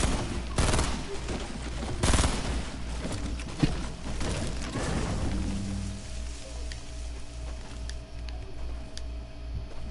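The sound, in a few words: gunfire from players shooting each other in Fortnite video game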